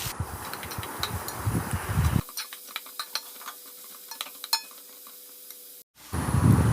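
Sliced onions with cinnamon, cloves and cardamom sauté in hot oil, a steady close sizzle with scattered clinks and scrapes of a stirring spoon against the pan; after about two seconds the low rumble drops away, leaving a thinner crackle before briefly returning.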